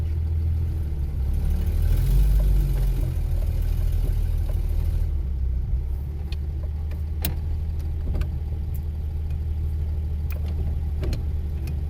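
A 1949 Chrysler Windsor engine runs steadily at a low, even idle with a deep rumble. Faint clicks and small knocks come through in the second half, and no one speaks.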